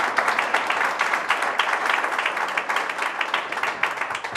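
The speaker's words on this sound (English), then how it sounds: "can we give her another round of applause" An audience at an academic lecture gives a round of applause, brisk dense clapping with individual claps audible, steady for the whole stretch.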